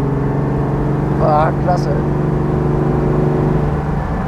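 A 1962 Mercedes 300 SL Roadster idles steadily with a smooth, even engine note throughout, and someone speaks briefly over it early on.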